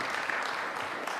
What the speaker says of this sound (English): So let's give another round of applause to Dr.